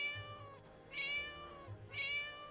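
A cat in the video game Neverwinter Nights 2 meows twice, each call clear and close against a quiet game background, with soft low thumps underneath.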